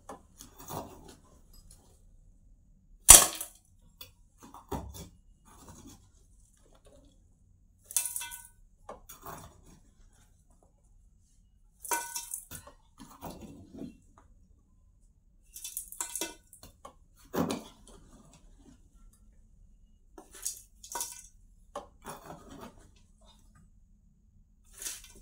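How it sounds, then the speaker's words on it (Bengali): Ash is scooped out of a clay stove to clean it, heard as intermittent scraping and rubbing strokes in short bursts separated by quiet gaps, close by and fairly soft. "তো ছাইটা তুলে নেই, চলুন।"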